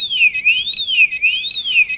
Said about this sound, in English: any interruption to the beam will now trigger the routine which sounds the alarm